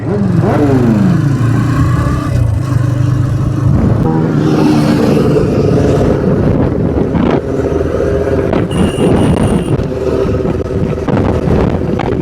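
Loud engine roar of superbikes passing close by on a Kolkata bypass road, mixed with heavy wind buffeting the microphone, continuous throughout.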